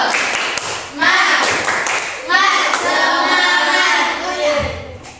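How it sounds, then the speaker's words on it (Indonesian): Grade 8 students in a classroom do a rhythmic group spirit clap, patterned hand claps mixed with chanted children's voices in two loud bursts, close and lively. "Tepuk semangat."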